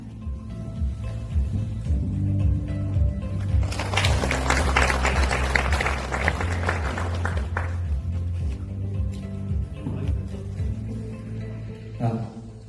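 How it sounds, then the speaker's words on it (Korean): Audience applause at a hydrogen commuter bus conversion agreement signing ceremony, a dense burst of clapping swelling in mid-clip for several seconds over a steady low hum, then fading. "큰 박수 부탁드리겠습니다"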